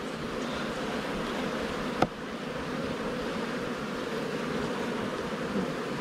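Honey bees buzz in a dense, steady drone from an opened hive at close range, with one brief sharp knock partway through and no speech.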